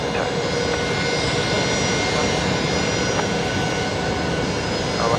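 Qantas 354 airliner touching down on runway 01 right at Brisbane Airport after arriving from Port Vila, a steady loud broadband jet roar that holds level throughout, with faint voices beneath it.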